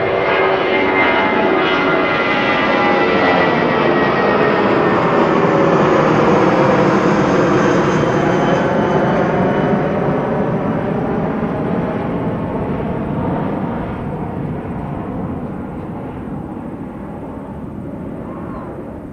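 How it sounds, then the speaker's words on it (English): A Jetstar airliner taking off, a loud, steady engine roar with a whining, shifting pitch that holds strong, then fades gradually as the plane climbs away. "Got a Jetstar taking off."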